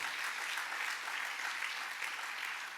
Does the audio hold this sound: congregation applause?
yes